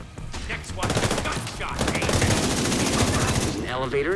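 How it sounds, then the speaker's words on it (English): Rapid automatic gunfire from the video game Far Cry Primal, a dense rattling burst lasting several seconds, loud and close, with a voice speaking over part of it. "Gunshot."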